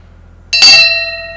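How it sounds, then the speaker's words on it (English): A variation bell in a construction company office is struck once, giving a sharp, bright ding that rings on with a long, clear, slowly fading tone. The room is otherwise quiet. "This is what we like to call the variation bell."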